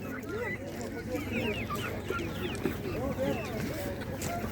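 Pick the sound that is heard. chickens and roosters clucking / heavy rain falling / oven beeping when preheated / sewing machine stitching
chickens and roosters clucking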